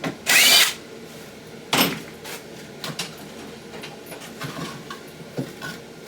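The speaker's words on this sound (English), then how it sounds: "all you got to do is take these 2 screws out here" Power drill backing out two adjustment screws on a homemade bagger, a loud short whir followed by a second brief burst, then faint clicks and handling noises.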